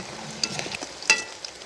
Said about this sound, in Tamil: பார்த்தீங்களா இப்படி அடாடாண்டு பொரிஞ்சிட்டு.